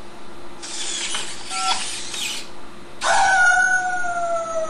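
A Robopet robot dog toy gives an electronic howl on voice command: bursts of synthetic yipping, then a louder sustained falling howl tone, close and clear with no talking.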